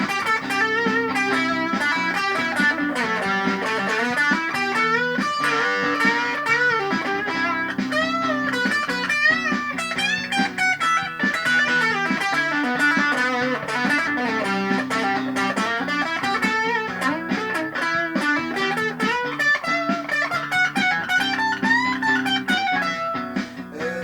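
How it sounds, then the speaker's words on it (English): Distorted electric guitar from a 1981 Westone Thunder 2 played through a Washburn Stack in a Box pedal set to moderate gain, with steady chords and riffs ringing continuously and loudly for the whole stretch, no voice. "I'm going to put on my Washburn stack in a box pedal, which is a sort of slightly less distortion than I would normally use"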